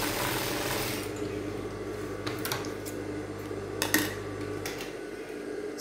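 A sewing machine stitching down a Bardot neckline, a close, steady mechanical whir that runs continuously for several seconds before stopping, with a few small clicks near the end.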